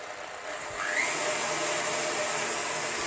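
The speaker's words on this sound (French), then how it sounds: "Nous pouvons à présent mixer à vitesse moyenne." An electric hand mixer whirs steadily at medium speed, beating butter, sugar and eggs for Breton shortbread batter, a continuous close motor drone.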